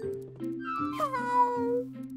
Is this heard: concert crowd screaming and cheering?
no